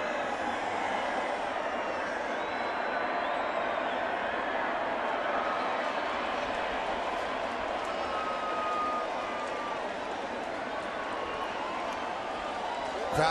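A large stadium crowd at a baseball game roars in a sustained, steady wash of cheering as fans do the wave, distant and even throughout.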